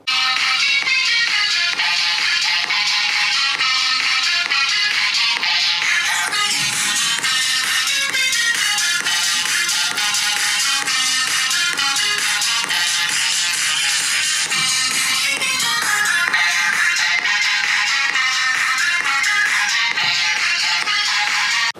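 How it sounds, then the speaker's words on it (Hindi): Music plays through the built-in speaker of a ZTE Nubia Music phone, steady and moderately loud with a thin, bright tone, continuous for over twenty seconds with no talk. "ये आप सुन सकते हैं स्पीकर की आवाज़।"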